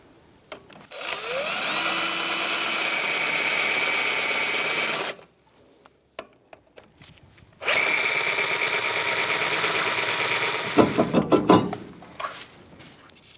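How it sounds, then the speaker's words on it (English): A power drill whines loudly in two long sustained bursts, drilling out brake rotor screws on a Kia Soul, separated by a pause, followed by a few short sharp clanks and taps. "So you're going to want to drill them out."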